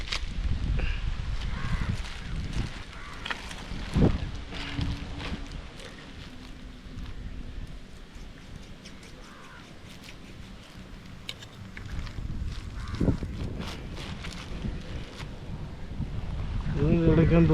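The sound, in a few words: wind blowing over a boat while fishing in Kerala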